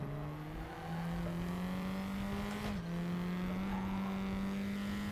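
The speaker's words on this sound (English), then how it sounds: "But that is the true raw sound of a gearbox, that. Of a sequential gearbox." A race car engine drones at steady high revs in the RaceRoom racing game, its pitch climbing slightly with a brief dip at a sequential gearbox shift partway through, loud and continuous with no talking.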